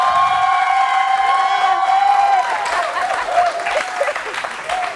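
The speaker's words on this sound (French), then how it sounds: "vous allez applaudir pour nous montrer ça" Studio audience on a French television show applauding and cheering together, a dense, steady wash of clapping with a few shouts and whoops rising above it, loud and close throughout.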